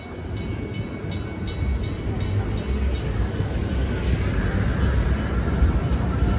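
A Miami Metromover train on its elevated downtown track gives a steady mechanical rumble that swells slightly as it passes at night, heard at a moderate distance over faint city background.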